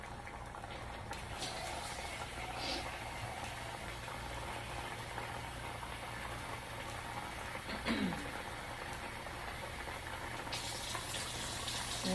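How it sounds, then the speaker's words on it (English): Water pours into a Greek yogurt mixture for New Orleans-style curry chicken, a steady soft rushing flow that runs nearly unchanged, with a brief louder splash partway through. "I'm adding some water in the mixture as well"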